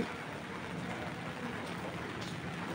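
Rain falls on a garden in a steady, faint, even hiss that stays constant throughout with no voices.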